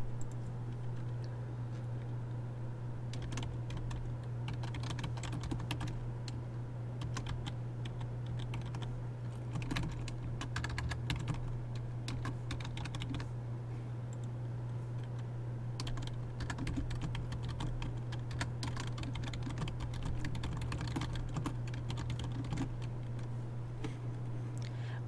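Quick, steady keyboard typing while a discussion board message is entered. The key clicks run continuously and fairly close over a constant low hum, with no voices.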